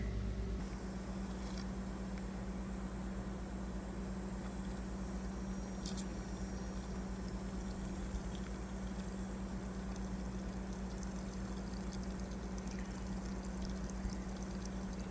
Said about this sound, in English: So we're getting some water, but it's not enough pressure.